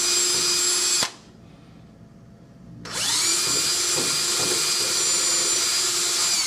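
A drill bit reaming glue from a pen tube runs with a loud steady whine, cuts out briefly for a couple of seconds, then spins back up and keeps running.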